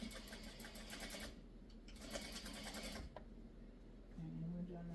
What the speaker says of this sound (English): we're going to sew our stem on.